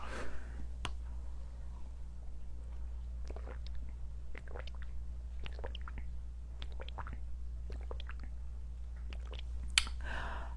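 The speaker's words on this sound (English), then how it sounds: "I'm killing this water, and I wonder if you can hear it." Someone drinking water in quick gulps right at the mic, with soft wet mouth clicks and swallows spaced through a quiet room over a steady low hum.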